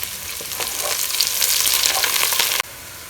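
Onions sizzling and frying in mustard oil for Bengali ilish polao, a loud steady crackle with stirring scrapes that stops abruptly near the end.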